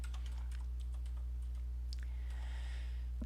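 Typing on a computer keyboard, a quick run of soft close key taps over a constant low electrical hum, with no one speaking.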